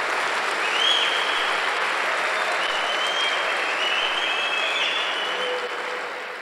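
A church congregation at a Sunday service applauds loudly and steadily, a dense wash of many hands clapping at once that holds strong and fades only slightly at the end, with no talk over it.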